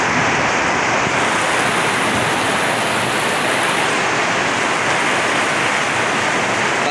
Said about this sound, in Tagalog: Grabing ulan din eh.